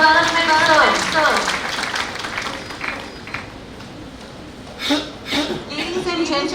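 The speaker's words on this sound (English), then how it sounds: "big round of applause for Director Research and Development, sir" Applause from a conference audience honouring a director of research and development at an India–Japan event; clapping and some chuckling start loud and fade under a speaker's voice, then brief bursts of clapping return near the end.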